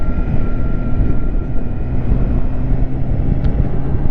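A BMW K1600 B motorcycle with a quick shifter cruises along, giving a steady, loud engine drone mixed with heavy wind rush and no talking.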